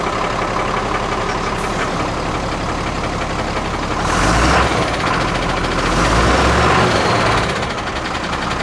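An IVECO Eurocargo 4x4 troop carrier truck with a Tector-family diesel engine running, a steady mid-pitched rumble that swells louder twice partway through, with no talking.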